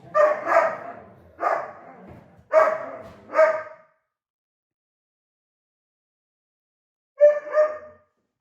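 Loose dogs at an indoor yarn festival give several sharp barks in two quick bursts, then fall silent for a few seconds before a final pair of barks, all close and fairly loud with no talking.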